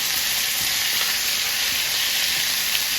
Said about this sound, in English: Now we're going to go ahead and add the onions in.